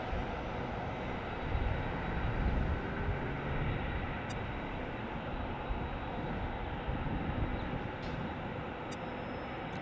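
A heavy airliner passes at LAX airport, a broad, steady jet roar that swells and holds loud throughout, with faint high beeps briefly cutting in near the end and no talking.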